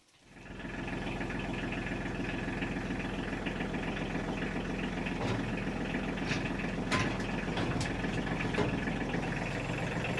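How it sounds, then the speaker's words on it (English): A tractor engine parked at a barn cranks and catches within the first second, then settles into a steady, close, loud diesel idle with a constant low throb. A few faint clanks sound over it, and no one speaks. "Let's see if the tractor will start this morning."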